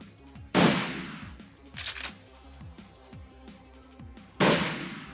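Video game gunfire sounds as two sharp, loud single shots at the start and end, with a softer burst in between over a rhythmic background game score; no speech.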